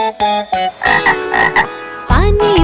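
A frog croaks in a bright, sharp run of repeated calls, loud and close, ending in a longer, rasping croak with a sliding pitch, heard on its own.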